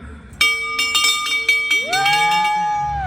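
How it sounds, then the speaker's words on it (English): A bell at a Harley-Davidson dealership is struck several times, each ring sharp and bright with a lingering metallic tone, clear and close against quiet surroundings. "Step on up there and ring that bell."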